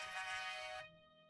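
Mobile phone ringing with an incoming call, a bright tonal ringtone melody that plays loudly and then cuts off abruptly, leaving a faint lingering tone.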